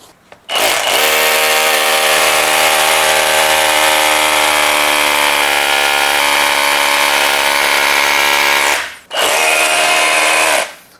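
A Bosch GBH 185-LI cordless rotary hammer drills concrete in impact mode, loud and close for about eight seconds with a steady high-pitched whine, stops briefly, then runs again.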